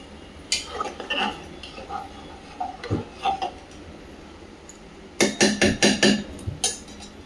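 Metal utensil clinks and scrapes against a cooking pot while warm water is stirred into pulao, scattered knocks early then a quick burst of rhythmic clatters near the end, close and fairly loud.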